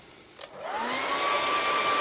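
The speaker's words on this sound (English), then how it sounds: "So I'm just using a hairdryer" Hair dryer blowing on wet white paint for a moon scene, starting with a brief click then ramping up into a steady, loud whine that holds to the end with no voices.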